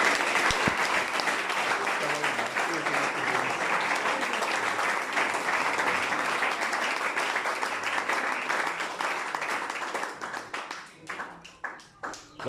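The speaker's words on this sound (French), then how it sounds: "Applaudissons le Seigneur" A church congregation applauding, dense sustained clapping from a large crowd that thins near the end into scattered individual claps, with some voices mixed in.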